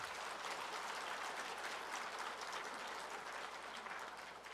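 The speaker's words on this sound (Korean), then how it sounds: "그냥 박수." Church congregation applause during a sermon, a faint, distant, sustained wash of many hands clapping, steady from start to finish.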